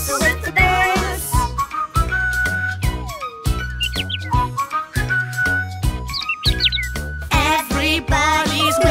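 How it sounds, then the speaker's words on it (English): Several people whistle a bright, melodic tune together in a children's farm song, with quick trilling runs and sustained notes, loud and close, over a light rhythmic backing. "Everybody's whistling."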